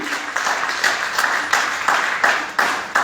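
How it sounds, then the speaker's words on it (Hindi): An audience at a business opportunity seminar breaks into applause, a rhythmic wave of clapping that pulses in repeated surges, moderately loud and fairly close. "तो एक बार जोरदार तालियां चाहूंगा मैं इस खूबसूरत इंडस्ट्रीज के लिए"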